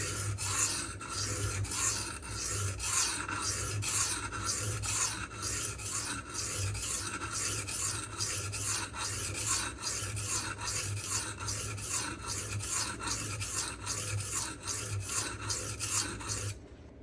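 A Magnacut steel knife blade rasps steadily across a Shapton Pro whetstone, close and continuous, with regular back-and-forth grinding strokes repeating for the whole stretch and no talking.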